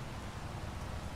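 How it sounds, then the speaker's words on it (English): Rain falling in Farming Simulator 25, a faint, steady hiss of drops on surfaces, brief and uniform with no talk over it. "There's the rain."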